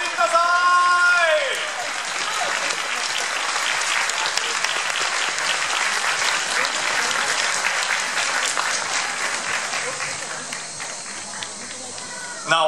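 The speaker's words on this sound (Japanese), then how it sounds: "皆様もう一度盛大な拍手お送りください。" Loud, sustained applause from an audience for hula dance performers, beginning with a brief voice and music at the start and continuing evenly before tapering slightly near the end.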